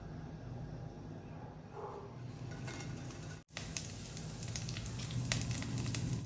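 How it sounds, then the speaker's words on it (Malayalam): Curry leaves hit hot coconut oil in a home kitchen pan for a chicken curry, giving a steady close crackling sizzle that holds throughout, with a brief dropout midway. "അപ്പോൾ ഞാൻ വെളിച്ചെണ്ണയിലേക്ക് കറിവേപ്പില ഇട്ട് കൊടുത്തു"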